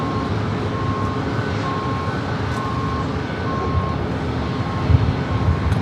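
An American Airlines A321 at San Diego airport produces a steady, broad jet engine roar at moderate distance, even and continuous with a faint repeating tone, no talk.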